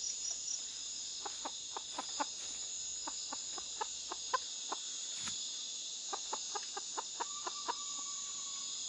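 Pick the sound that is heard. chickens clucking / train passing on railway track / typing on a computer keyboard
chickens clucking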